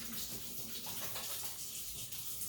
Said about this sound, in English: I'm going to go to the sink and wash my hands